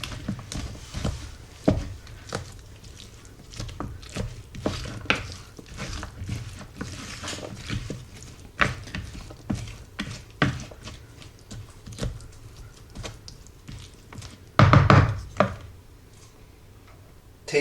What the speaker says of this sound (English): Mix it all together.